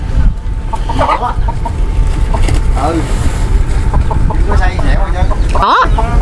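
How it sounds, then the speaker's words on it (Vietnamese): Farmyard chicken clucking with bursts of wing flapping on a flood-prone rural Vietnamese homestead, close and busy over steady background noise, with people talking nearby. "Ui gà bay."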